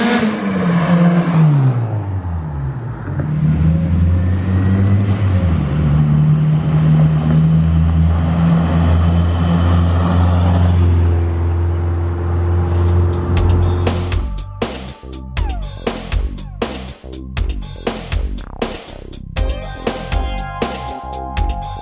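A Honda S2000 fitted with a Kraftwerks supercharger kit runs up the street past the listener, its engine droning loudly and climbing in pitch, then it backs off and the exhaust pops and crackles sharply in irregular bursts.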